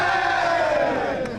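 A crowd at a schools rugby sevens trophy presentation roars and cheers for Kingswood in a loud, sustained mass of voices that trails off slightly at the end.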